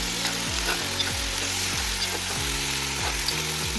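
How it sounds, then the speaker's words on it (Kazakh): Tomato goes into a sizzling pan of fried onion, carrot and meat for a pea soup base, stirred in steady strokes about every half second that scrape through a continuous close frying hiss. "Үстінен томатымызды саламыз."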